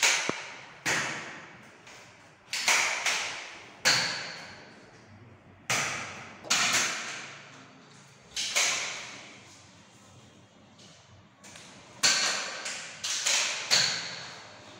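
A Nerf toy gun firing foam bullets, a series of sharp snapping shots in irregular bursts, some singles and some doubled, close by with quiet gaps between.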